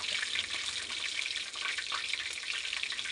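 Chicken pieces frying in hot oil in a home kitchen, a dense, steady sizzle and crackle that stays close and fairly loud throughout with no talk.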